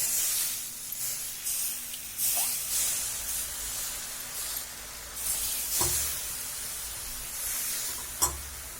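Water poured onto jhunka cooking in a hot pan, producing a steady hiss and sizzle, fairly quiet and continuous with a few brief clatters.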